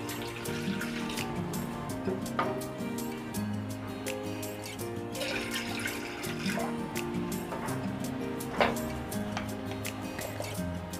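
Water pours into a pressure cooker as the first step for shredded chicken, a light trickling and splashing flow with scattered drips and small splashes, fairly soft and close, continuing throughout.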